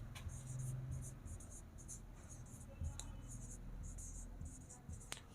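Chalk or marker strokes on a classroom board during a Class 11 biology lecture, a series of short scratchy bursts in rhythmic clusters, fairly close, with faint low murmuring underneath.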